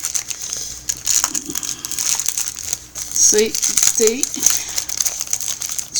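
Hands tear and crinkle the plastic wrapping on a package, producing continuous close-up rustling and crackling while someone speaks briefly over it.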